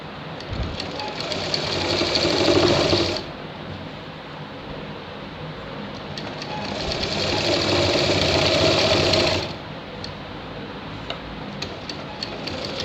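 A sewing machine stitches a shirt seam in two steady, rapid bursts of several seconds each, separated by a quieter pause with faint ticking.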